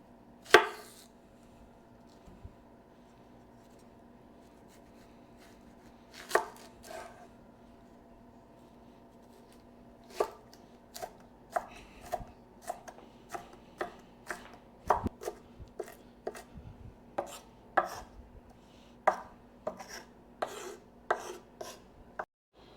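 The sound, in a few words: chopping an onion on a cutting board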